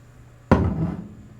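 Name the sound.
tapping a whiskey bottle, ASMR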